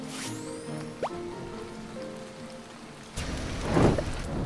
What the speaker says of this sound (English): It's like acid rain.